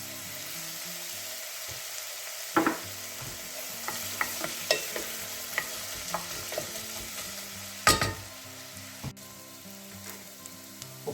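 Onions sweating with a pinch of salt in a pan for asparagus soup give a steady soft sizzle, broken by several sharp scraping stirs and clatters of a utensil against the pan, with no talk.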